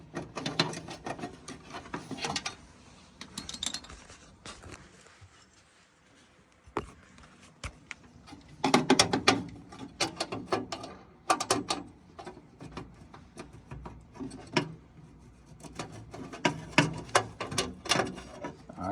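Quarter-inch drive ratchet working a small screw on a home furnace, giving quiet clusters of quick clicking bursts separated by pauses, close up with no talking.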